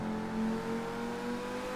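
In GTA Online, a car engine holds a high, steady rev as it strains at over 100 mph against a transmission that will not shift up, a continuous droning whine at moderate loudness.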